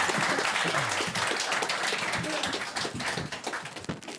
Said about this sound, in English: I have a big, huge round of applause for Sammy from Strong Roots.